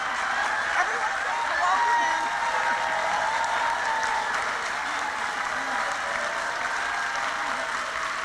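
A town hall crowd at an Elizabeth Warren campaign event in Greenville, South Carolina, claps and calls out greetings, a steady, loud roar of applause mixed with many voices throughout.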